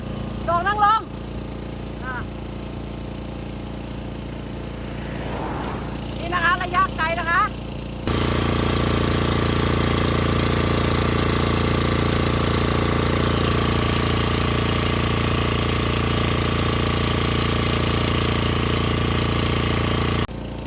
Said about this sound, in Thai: ลอง ปล่อยกว่ากันก็เทอร์โบนี่แหละค่ะ เขาจะพ่นระยะไกลให้ดูนะคะ